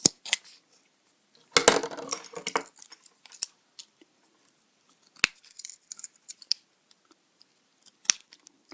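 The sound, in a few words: scissors trimming cardboard Dilophosaurus feet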